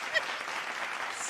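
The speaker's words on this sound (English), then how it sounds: "Can we get a round of applause, please, sir?" A small studio audience gives a short round of applause, a steady soft patter of many hands heard from a moderate distance.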